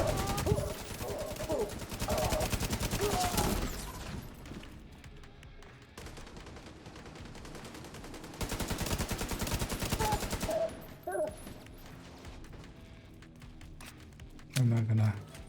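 RPK machine gun in a video game firing long, loud automatic bursts, with rapid shots in two sustained stretches separated by quieter game noise and bits of talk.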